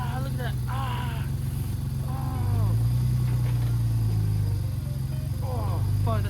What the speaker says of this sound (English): We do have a pretty fat exhaust leak.